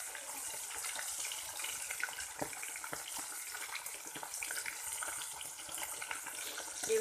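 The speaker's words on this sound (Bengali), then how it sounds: "দেখুন, এই মাছগুলো ভেজে নেব।" Tilapia fish fry in hot oil with a dense, steady sizzle and crackle, broken by occasional soft pops and light knocks, with no voices.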